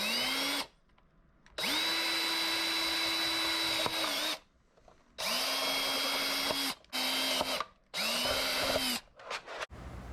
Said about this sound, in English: going to go ahead and drill in both these holes